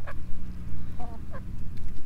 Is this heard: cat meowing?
no